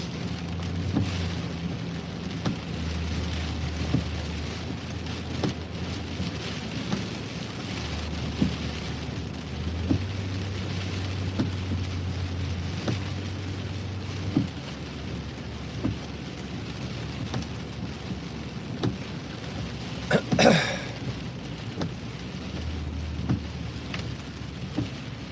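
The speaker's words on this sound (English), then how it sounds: "Right now we're caught in between two severe warned storms." Steady rain from severe thunderstorms drums on a vehicle while driving between two warned storms, with low rumbling throughout and a brief sharper crack near the end, no talking.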